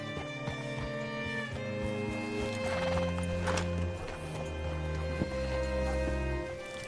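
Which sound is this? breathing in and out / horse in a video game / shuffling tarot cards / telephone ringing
horse in a video game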